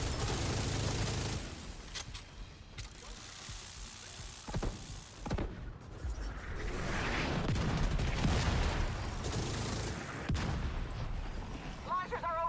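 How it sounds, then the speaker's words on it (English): Mortar fire and explosions in a video game, heavy bursts and booms scattered through a dense, busy battle soundscape, with game noise and mechanical clatter layered over it. "Mortar's cooling off. Wait, there's still more mortars?"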